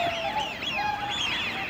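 Swans call at a lakeside, a cluster of nasal, honking notes overlapping each other at close range over faint background noise.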